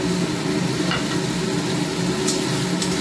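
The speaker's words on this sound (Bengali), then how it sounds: "এবার আমি রসুন আর কাঁচা লঙ্কার পেস্টটা দিয়ে দেবো।" Garlic and green chili paste frying with already-browned onions in a pan, a steady close sizzle with a low hum underneath and a few faint ticks, no talking.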